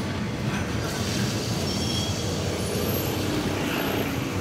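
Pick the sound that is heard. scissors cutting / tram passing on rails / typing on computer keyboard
tram passing on rails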